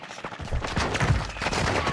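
Dense automatic gunfire bursts in Call of Duty DMZ, rapid overlapping shots with loud sharp cracks filling the whole two seconds, close and continuous.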